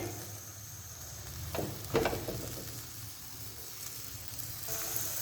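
An aloo cheese paratha fries in ghee on a tawa, giving a soft, steady sizzle with a brief louder crackle partway through, near and alone.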